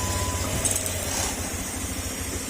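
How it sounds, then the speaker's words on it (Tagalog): A repaired car engine running after being started in a workshop, idling with a steady, throbbing rattle and faint clinks nearby. "Ayan, ramdam na ramdam din yung kanyang kalampag sa makina."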